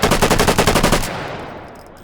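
Sturmgewehr assault rifle in the H3VR virtual reality game firing a rapid automatic burst of about a dozen loud, close shots, then a ringing decay into quiet.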